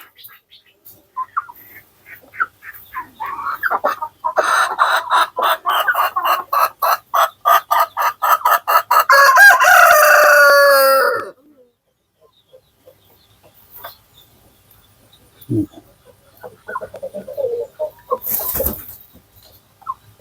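Light Sussex chickens cluck nearby, then a rooster crows loudly in a long rhythmic burst, followed by scattered quieter clucks and pecking sounds.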